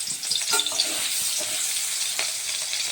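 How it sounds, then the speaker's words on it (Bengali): Koi fish slipped one by one into hot oil for a Bengali tel koi curry, giving a bright, steady sizzle and crackle with small pops, close and continuous. "এখন আমি একটা একটা করে দিয়ে দিচ্ছি তেলের মধ্যে।"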